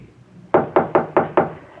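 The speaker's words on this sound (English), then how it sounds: "Here's one of them now, knocking on Mr. W. Norton's door, 3A." Five firm knocks on an apartment door, evenly spaced and close, in a radio drama sound effect with no talk over them.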